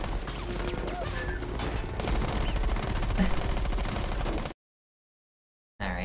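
Heavy gunfire in Saints Row The Third: dense, continuous rapid shooting with bursts, loud and busy, cutting to silence before a short return of noise at the end.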